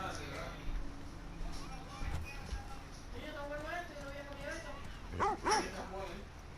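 A dog in The Last of Us Part II barks and yips several times, with soft whimpers and game ambience around it, while a player talks over the sounds.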